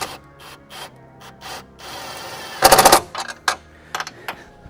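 Impact wrench tightening a 12 millimeter nut on an MST intake for a BMW G80 M3 or G82 M4, a loud close rattling burst of hammering followed by a few shorter bursts after softer handling noises.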